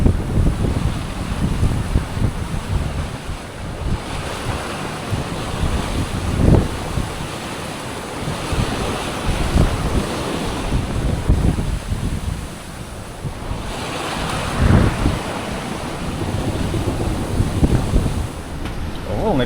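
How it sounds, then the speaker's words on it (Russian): Big waves and strong wind over 30 knots while sailing downwind to the Exumas in a heavy swell, a loud continuous roar of wind buffeting and sea wash with surging crests throughout. "Волны пипец просто стали здесь."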